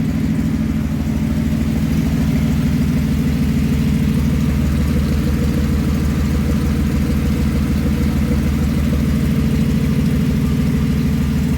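A rebuilt 3.4L engine from a 2005 Impala idles steadily in a 2000 Pontiac Grand Am, a loud, close, even low rumble that holds unchanged throughout with no talking.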